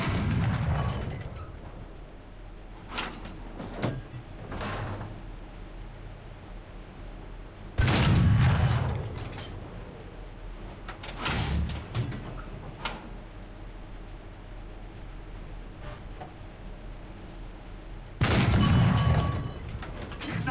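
A tank cannon in a video game fires shells with two heavy, booming blasts spaced about ten seconds apart. Sharp clicks and a low rumble sit between the shots.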